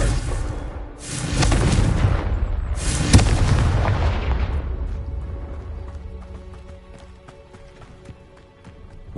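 A Confringo fire spell explodes in the video game Hogwarts Legacy, with a loud rumbling blast and a second burst, then a long fading tail that settles into quiet ambient tones.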